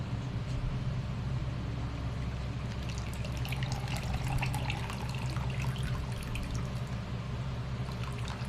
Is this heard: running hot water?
yes